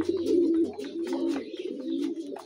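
Pigeons, among them a red-eyed pair, coo inside a loft with soft, repeated throaty calls at close range, overlapping in short bursts over a quiet background, with a few light scratches and flutters.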